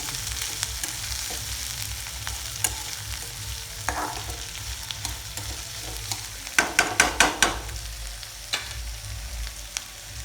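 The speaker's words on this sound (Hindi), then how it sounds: "अब डाल देबो प्याज प्याज डाले बाद बढ़िया से भूनबो।" Onions frying in a pan after cumin seeds for an egg bhurji and soya keema curry, a steady sizzle with scattered stirring scrapes and a quick run of sharp clinks near the end, with no talk.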